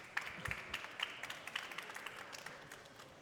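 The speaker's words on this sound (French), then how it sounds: "Vous voulez pas crier le public, hein, vous voulez juste applaudir." Studio audience at a live quiz show clapping, a light, scattered patter of hands at moderate distance, thinning out toward the end.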